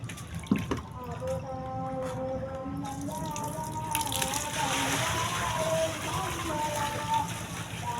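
Water is dumped out of a catfish pond, sloshing and splashing continuously at close range with some dripping, steady throughout and swelling slightly midway.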